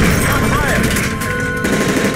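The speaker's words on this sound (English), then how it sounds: "That's gunfire!" Rapid bursts of video game gunfire in Call of Duty: Modern Warfare 3 crackle loudly and continuously, like automatic weapons firing amid a dense, noisy mix.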